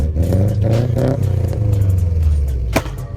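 A car fitted with a custom exhaust revs hard nearby, a loud throaty rumble that swells and falls with rattling, clattering overtones, ending in a sharp burst.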